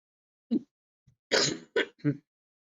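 A few harsh coughs close to the microphone, a short one followed by a quick cluster of three.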